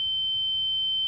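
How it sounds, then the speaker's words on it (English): A loud, steady high-pitched ringing tone used as a sound effect, a single pure sustained beep held without break. "a loud ringing sound filling Leo's head instead"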